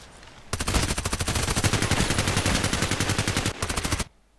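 Automatic gunfire in the shooter video game Contract Wars, a rapid sustained burst of evenly spaced shots lasting about three seconds, a brief pause, then a short final burst, loud and close.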